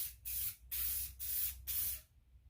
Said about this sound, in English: You want to kind of start your spray off of it and then go on with it.